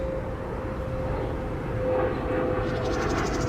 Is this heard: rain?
no